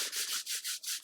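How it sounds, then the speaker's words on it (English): Two palms rub briskly together in a quiet room, a rhythmic series of dry swishing strokes, about six back-and-forth passes, close and alone. "So rub your hands together."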